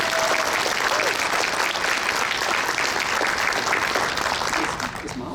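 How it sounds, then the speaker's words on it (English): A crowd at a retirement party breaks into sustained applause, dense and loud from start to finish, easing off slightly in the last moment with no talking over it. "Let's give him a round of applause for that."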